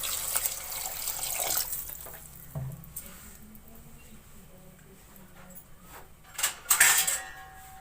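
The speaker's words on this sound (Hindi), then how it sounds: "इसमें 1 गिलास पानी को शामिल कर लूंगी।" A glass of water poured into a pan of fried potatoes for keema, rushing and splashing up close over a hot sizzle, then settling into softer bubbling with a few clinks of cookware.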